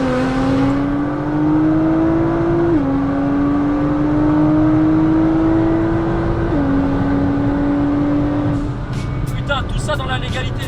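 A Nissan GTR, three people aboard, accelerating hard toward top speed: a loud, steady engine drone rising in pitch, dipping briefly at two gear changes, then climbing again, heard from inside the car.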